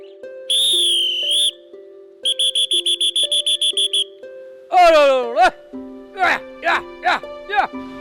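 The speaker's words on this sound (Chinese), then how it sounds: "赵国祥则用哨声召集家里的牲畜" Whistling calls summon livestock at a village in a tropical rainforest, in long steady tones and then a run of quick repeated pips, followed by several sliding whistles. A low mechanical-sounding drone continues beneath.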